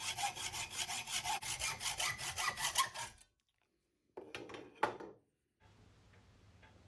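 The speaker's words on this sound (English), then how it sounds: "So I grip them in my vise and saw them at the mark I'd made earlier. These are high tensile bolts," A hand saw cuts through high tensile steel bolts clamped in a vise, with about three seconds of fast, even back-and-forth rasping strokes, then a pause and a few short clanks and scrapes of the workpiece being handled.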